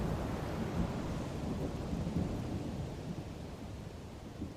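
A thunderstorm sound effect for a children's story, with steady heavy rain and a deep continuous rumble of thunder throughout, loud and close, without voices.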